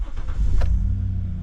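A Dodge Caravan van engine cranks and catches, a short starter whir giving way to a steady low idle rumble, close and fairly loud.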